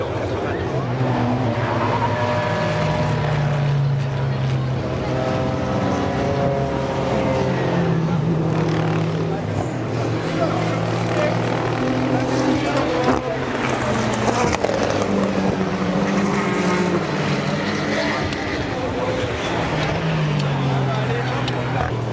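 At the 24 Hours of Le Mans, race cars roar past in repeated rising and falling engine sweeps, loud against a busy trackside crowd, with people talking close by.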